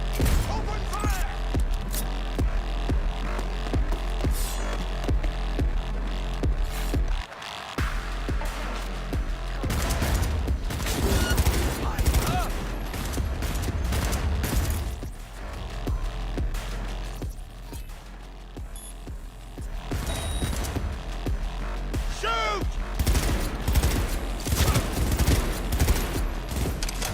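A sustained firefight in Cyberpunk 2077 on very hard difficulty, with heavy automatic bursts and booming shots piling up almost without pause, loud and dense, with voices occasionally breaking through.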